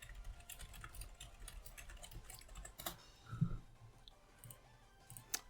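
Quiet, rapid clicking of keys on a computer keyboard, a string of light taps at close range with a few sharper presses, no talking.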